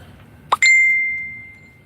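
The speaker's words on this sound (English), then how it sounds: "I think that bell's telling me it's about time." A single bell chime strikes once, clear and close, then rings on with a long, slowly fading tone in an otherwise quiet room.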